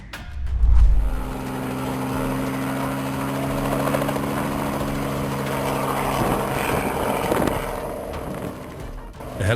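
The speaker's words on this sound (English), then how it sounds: "A helicopter that was taking panoramic flights for participants in the Polenta Festival in Venda Nova, Brazil, lost power and had to land on a brick factory" A helicopter on panoramic festival flights in Venda Nova, Brazil, losing power shortly after takeoff: a loud, steady rotor and turbine drone with a low thump at the start, holding near and constant throughout.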